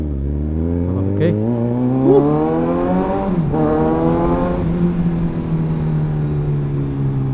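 Kawasaki Ninja 1000SX big bike being ridden, its engine a steady loud drone with rising and falling harmonic pitch as it revs and shifts, mixed with wind noise.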